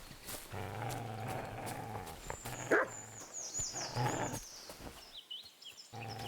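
Dog barking and growling in the medieval role-playing game Kingdom Come: Deliverance II, sounding out in weedy high grass with wolves nearby, mixed into layered game sounds and ambience at moderate loudness.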